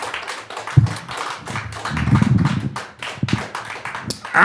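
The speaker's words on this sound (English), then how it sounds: "I'd like you guys to clap your hands really loud for everybody who makes this thing work" A live-show audience at Fearless Fest 2023 claps loudly, producing a dense, irregular run of sharp hand slaps from many people close by, with a few faint voices mixed in.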